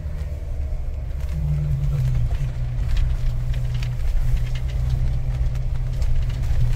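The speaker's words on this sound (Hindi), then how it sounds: "लो में डाला किसी वजह से गाड़ी धीरे चल पा रही है" A car labouring uphill in low gear on a steep, dangerous mountain road near Hatu Peak, Narkanda, Himachal: a steady, loud low-pitched engine drone with a rising tone that holds throughout, alone and without talk.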